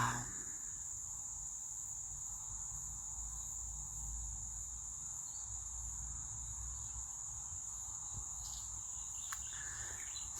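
Night crickets keep up a constant shrill trill, steady and unbroken, with a faint chirp or two in the background near the end and no one speaking.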